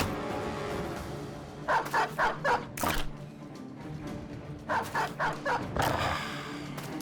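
A dog in the Battle Brothers video game, giving two bursts of rapid barks a few seconds apart, each quick series of four or five yaps over low background battle noise.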